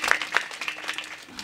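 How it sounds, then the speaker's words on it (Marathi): Audience clapping at a Marathi comedy kirtan, a short burst of scattered hand claps with a few sharper strikes, close and moderately loud, with a voice briefly mixed in. "माऊली महाराजासाठी टाळ्या वाजवा."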